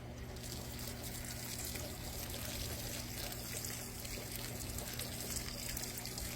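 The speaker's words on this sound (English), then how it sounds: "Go ahead and water these guys." Plants under a jackfruit tree being watered, a faint steady trickle and pour of water running continuously under a low background hum, with no talk.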